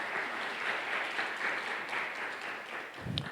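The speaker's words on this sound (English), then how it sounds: "Let's give them another round of applause, please." Audience at a clinical research conference applauds the panelists with a steady, fairly distant wash of many hands clapping, fading slightly near the end.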